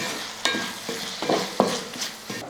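A spoon stirs egg street-food gravy with tomato and soy sauce in a pan, giving a few scraping knocks and soft clinks between quiet sizzling, close and moderately quiet with no talking.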